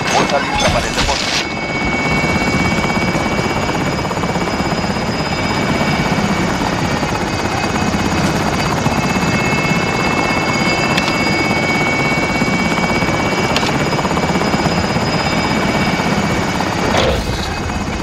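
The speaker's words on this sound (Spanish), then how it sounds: "Helicóptero en posición." Call of Duty Warzone helicopter hovering in place at a Plunder deposit point, a dense, loud and continuous rotor roar with a steady engine whine, broken by a few sharp impact thuds.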